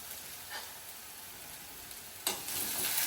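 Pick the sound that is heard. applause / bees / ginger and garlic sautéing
ginger and garlic sautéing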